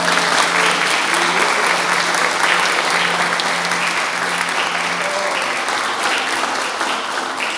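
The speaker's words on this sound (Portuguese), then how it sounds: "Vamos aplaudir o nosso Senhor" A church congregation applauds during a worship service, with continuous, full-bodied clapping from many people sustained at an even level throughout.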